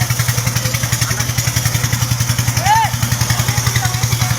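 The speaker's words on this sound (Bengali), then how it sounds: "আরেকটা বোট আসছে।" A rescue boat's engine throbs in a steady rapid pulse during a flood rescue, loud and close, with a brief whistle-like sound and voices in the background.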